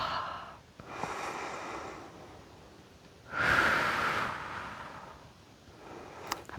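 A loud exhale during a yoga flow, a broad breathy rush swelling near the middle and fading over about two seconds, with softer breaths around it and no talking.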